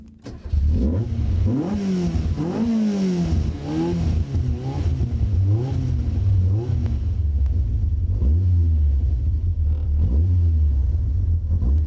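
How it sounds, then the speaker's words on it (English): A Caterham Superlight R's 180-horsepower Rover K-Series engine rumbles steadily and revs up and down repeatedly, loud and close, with no voices. "that's 180 horsepower of Rover K-Series engine"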